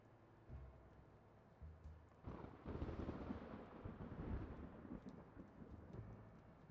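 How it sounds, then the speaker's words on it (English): Deep rumbling thunder rolls in a video game storm, building to a long, loud roll over steady rain, with no voices. "Do I have to wait for the light to thunder?"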